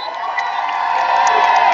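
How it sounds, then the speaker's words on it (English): A large crowd at an outdoor dancehall festival performance claps and cheers, a loud continuous roar of clapping and whoops that builds slightly and fills the space. "Can you clap yourself, please?"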